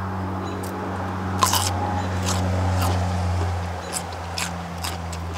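Raw Giant Kossak kohlrabi is bitten and chewed in a handful of sharp, crisp crunches spread unevenly over a low steady hum, with no talking.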